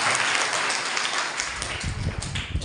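An audience at a religious discourse in Nidoni claps in a brief, steady burst of dense applause that continues for a few seconds at moderate loudness.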